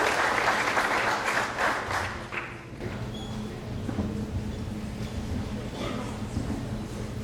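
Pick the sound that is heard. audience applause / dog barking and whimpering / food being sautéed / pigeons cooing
audience applause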